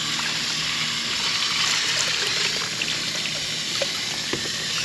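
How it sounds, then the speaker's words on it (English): Water from a hose washes out a bucket used for placer gold prospecting, giving a steady close hiss and splash with no talking. "Let me get a hose to wash him out."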